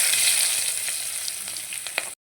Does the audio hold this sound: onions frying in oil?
yes